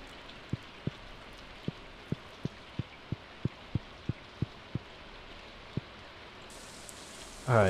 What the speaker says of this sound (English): Do you like the rain, Caroline?